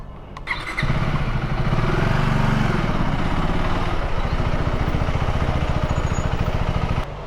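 A KTM 390 Adventure motorcycle overheating with a high coolant temperature warning sits idling up close, its radiator fan whirring steadily over a loud, continuous engine throb that cuts off near the end.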